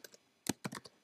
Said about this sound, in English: So here I'm going to type in the following code